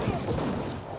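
A dense, loud burst of rapid gunfire from the video game Cyberpunk 2077 fills a brief moment, constant and close.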